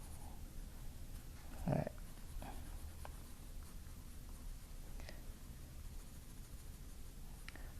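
Graphite scratching from a Staedtler 6B pencil on paper, faint and steady, with a brief louder scrape and a soft voice briefly speaking.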